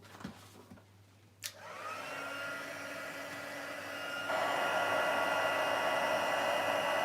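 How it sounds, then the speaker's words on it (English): Heat tool blowing hot air to melt embossing powder on a papercraft project, a steady loud airflow whine with tonal harmonics that steps up in intensity partway through and continues alone without talk. "I'm going to bring my heat tool in and we're just going to melt that powder."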